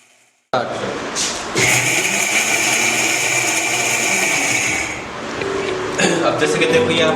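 A kitchen mixer grinder whirs loudly as it grinds soybeans, cashews and chickpeas into powder, running in a sustained burst of about three and a half seconds, then easing down as a voice speaks briefly.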